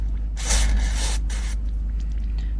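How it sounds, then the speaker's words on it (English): DeoxIT D5 contact cleaner sprayed into the volume knob of a Gemini P-800 amplifier: one close, hissing burst of about a second with a brief break near its end, followed by quiet room tone. "We're going to spray some in there"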